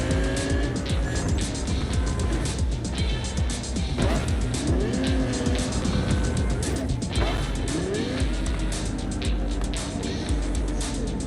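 The Caliburn car in Cyberpunk 2077 drives hard with a continuous high-revving engine roar, rising and falling through gear changes, and its tires squeal repeatedly in corners.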